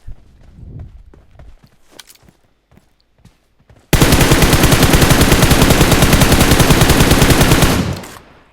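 Light footsteps and scattered clicks, then a long, loud, unbroken burst of automatic gunfire in PUBG Mobile lasting about four seconds before cutting off.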